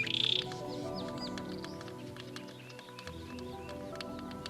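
Male shaft-tailed whydah calling in a marshy South African volcanic crater, with a few high chirps and thin tweets standing out over a steady background murmur of the outdoors.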